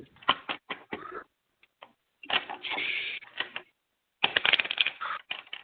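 Tarot cards are shuffled by hand in quick bursts of riffling and sliding, loud and close, separated by short pauses.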